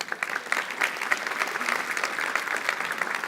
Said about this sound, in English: But you'll get the applause for the school, Kellen.